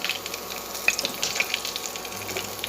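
A teaspoon of hot oil sizzles with mustard seeds, urad dal and asafoetida, tempering spices for radish chutney. The quiet, continuous frying hiss carries faint crackles and pops, with no voices.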